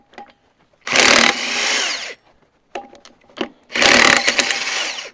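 A power tool removes a flywheel in two loud, close bursts of whirring impact-style rattle, each about a second long, separated by brief quiet taps and clanks.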